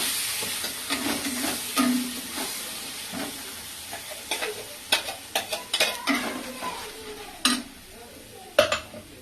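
Spinach paste and spices sautéed in a pan for palak paneer, a spatula scraping and knocking against the metal in uneven strokes over a soft, close sizzle, with a few louder clacks toward the end.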